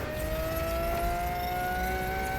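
Volkswagen ID Electric R race car in a racing video game, a steady continuous motor whine with a faint rising tone and constant road rumble, loud and sustained with no talk.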